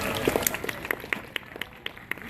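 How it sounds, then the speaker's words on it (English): Scattered hand claps from a small audience at a Vancouver Aquarium dolphin show, fairly light and brief, with a faint murmur of voices beneath. "Let's give these ladies a round of applause."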